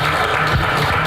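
Steady, dense audience applause at a Korea–Japan seminar on suicide prevention held at Bongeunsa temple, welcoming a Won Buddhist minister to the stage: loud, continuous clapping from a crowd, heard briefly with no talk.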